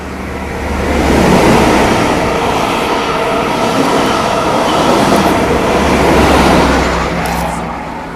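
A non-stop passenger train rushes through a station, a loud sustained roar and rattle of wheels on rails that swells and fades as the carriages pass close by.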